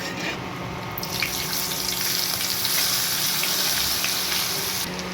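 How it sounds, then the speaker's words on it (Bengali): Onion going into hot oil tempered with cumin seeds, dried red chilli and bay leaf, a loud close sizzle with a sharp burst at the start, a sustained hiss and a brief surge near the end. "এবার এটা নাড়িয়ে পেঁয়াজটা ছাড়া হবে"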